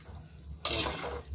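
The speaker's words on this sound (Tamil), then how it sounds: "தண்ணி தேங்காய் பால்லாம் போட்டாச்சு, எல்லாம் போட்டாச்சு." Water and coconut milk pour into a pot of ghee rice in one sudden, steady splashing stream that starts abruptly and runs on close by.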